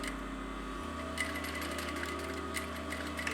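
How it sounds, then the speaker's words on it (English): Sewing machine joining the triangular panels of a cap, running steadily throughout with an even mechanical hum and faint rapid stitching ticks, close and moderately quiet. "I'm sewing the triangles together, matching the notches, starting at the top and working my way to the bottom"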